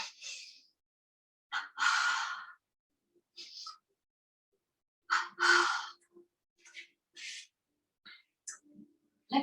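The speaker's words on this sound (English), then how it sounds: "Double inhale, double exhale." Yoga breathing with a double inhale and double exhale during a Hatha session: short paired breath bursts, some sharp and close, repeating in bursts with quiet gaps between them.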